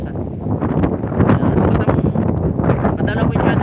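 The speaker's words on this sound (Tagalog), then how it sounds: "Lakas ng hangin." Strong wind blowing outdoors, a loud continuous rushing buffet against the microphone with gusty surges throughout.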